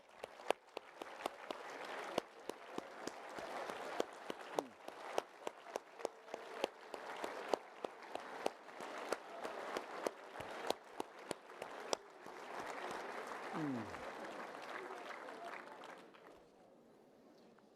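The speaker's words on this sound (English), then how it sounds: "everybody in this damn room should stand up and give themselves a round of applause" A hall audience claps at a modest level, with sharp irregular claps standing out from a steady spread of applause that runs for about sixteen seconds before thinning out near the end.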